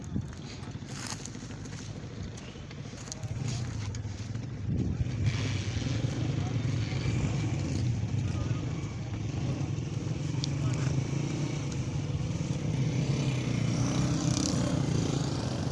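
A motorcycle engine drones steadily nearby at a jeep rally in Bahawalpur, rising slightly in pitch as it moves, with wind roaring against the microphone throughout.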